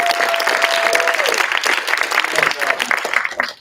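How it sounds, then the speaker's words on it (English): Student government meeting attendees applaud a newly introduced advisor, a thick wash of clapping from many hands sustained for several seconds, with talking heard over it before it tapers off. "So please give him a round of applause."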